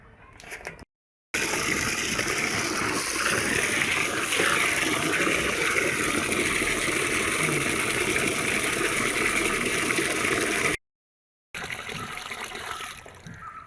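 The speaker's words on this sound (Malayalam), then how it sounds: "അപ്പോൾ നമ്മളൊന്ന് കഴുകി രണ്ട് പ്രാവശ്യം കഴുകി" Loud, steady sloshing and gushing water as paddy rice is washed, running for about ten seconds, framed by brief quieter moments with short silent gaps at either side.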